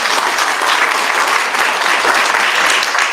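A crowd at a wealth and politics summit with a mayoral candidates forum applauds, a loud, dense, sustained roll of clapping from many people throughout.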